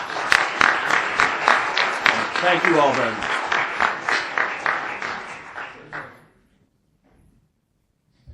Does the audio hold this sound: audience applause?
yes